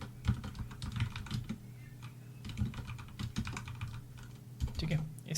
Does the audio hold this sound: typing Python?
yes